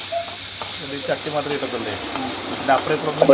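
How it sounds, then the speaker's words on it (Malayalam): Washed, squeezed turkey berries sautéed in a hot pan for a Konkani-style curry, a close, moderate sizzle with soft stirring scrapes and brief clatters. "ചുണ്ടങ്ങ കഴുകി പിഴിഞ്ഞെടുത്ത ചുണ്ടങ്ങ കൂടി ഇട്ട് നന്നായി ഒന്ന് വഴറ്റിയെടുക്കാം"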